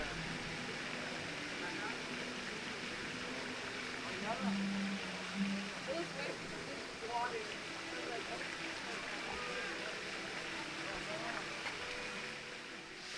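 Relaxing stream water flows steadily at a zoo, a constant broadband wash with no pauses and a few faint sounds drifting over it.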